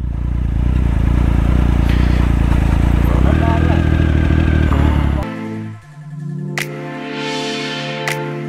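Motorcycle riding across the White Rann salt desert of Kutch, a steady loud engine drone for about five seconds that then drops away, followed by quieter tonal sounds.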